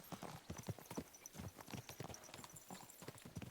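Continuous hoofbeats of a ridden horse in Kingdom Come: Deliverance II, an even, repeating clip-clop pattern that carries on for several seconds, close and fairly loud.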